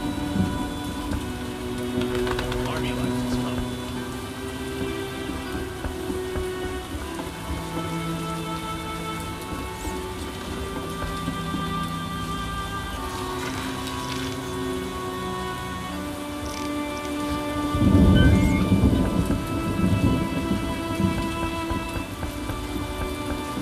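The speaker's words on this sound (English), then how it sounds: "It's raining." Steady rain with rolling thunder in The Witcher: Enhanced Edition, a continuous wash of rainfall that swells with a louder thunder rumble near the end, no voices over it.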